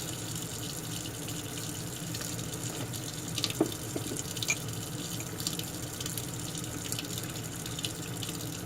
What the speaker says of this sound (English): Just be sure to rinse all the soap off when you're done.